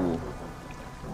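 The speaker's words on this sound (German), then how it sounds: "Gewitter wieder." Steady rain hisses and patters over a low thunder rumble during a brief stormy moment at sea in the fishing game DREDGE, with no one speaking.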